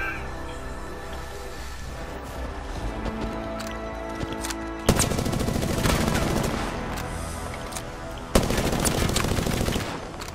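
Rapid automatic gunfire in the Apex Legends video game, sustained bursts that grow louder and denser partway through, with sharp onsets and a faint voice underneath.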